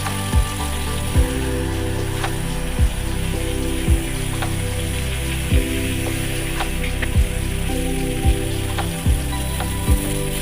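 Fish fry in a small amount of oil on a flat tawa pan, a steady bubbling sizzle with regular soft clicks and taps recurring about once a second throughout.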